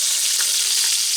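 Onions and peppers sauté in an Instant Pot, giving off a loud, continuous, close hiss and crackle of frying with no talk over it.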